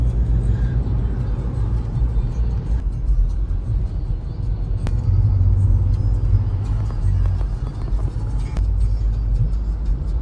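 A Toyota Fortuner with its wheels slightly out of alignment drives along a main road in Karachi, giving a steady, loud, low rumble of engine and road noise throughout, with a few faint clicks on top.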